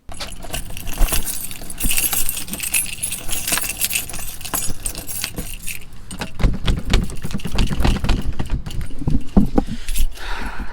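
Metal keys jangle and clink continuously near the microphone while someone locks up, with scattered rattles and light knocks from handling throughout.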